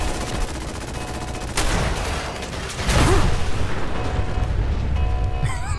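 Gunfire in a Fallout 4 fight, a loud dense wash of rapid shots and blasts that keeps going throughout, with heavier bursts swelling twice and a short electronic warble at the end.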